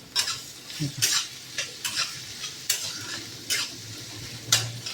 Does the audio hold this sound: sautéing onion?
yes